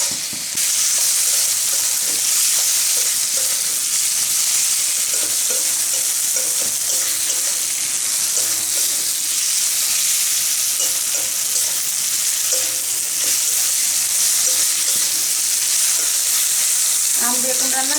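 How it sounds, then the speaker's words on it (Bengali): A loud, steady frying hiss as mustard paste, sugar, green mango and eggplant are stirred together in a pan, with soft scraping taps from the spoon and a brief clatter near the end. "এখন সব কিছু একসঙ্গে মিশিয়ে নেব"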